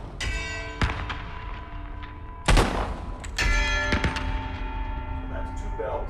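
Bells in The Gallery: Call of the Starseed VR game struck by flare gun shots, heard as sharp loud hits followed by sustained ringing tones, with a few more strikes across the stretch over a continuous game ambience.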